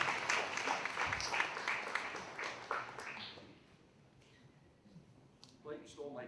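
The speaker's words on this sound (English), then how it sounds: "Another round of applause for Alexandrou, major leader here in the city of Aurora." Outdoor audience at a Greek Independence Day flag raising in Aurora claps in a scattered, moderately loud burst lasting about three seconds, then fades, with someone speaking afterward.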